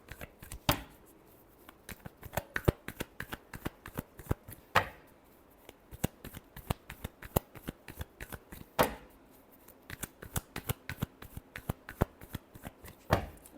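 Tarot cards are shuffled by hand in quick, crisp riffling bursts, close and fairly quiet, with sharp snapping clusters recurring every few seconds over nearly fourteen seconds.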